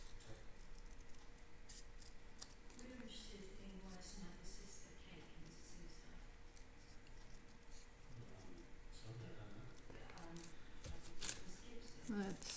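Scissors snip through paper during a card-making craft session, with soft, repeated cutting strokes under steady talk close to the mic.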